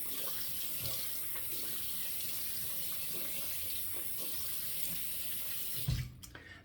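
Bathroom tap runs steadily for a face wetting before a shave, a continuous close splashing stream that stops abruptly near the end, leaving a few drips and handling noises.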